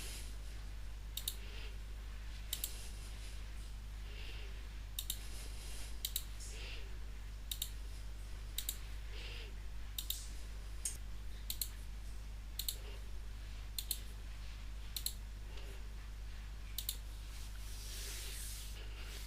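Computer mouse clicking while downloading Excel sheets: sharp, faint, close clicks recur every second or so over a steady low hum, with soft muffled sounds between them.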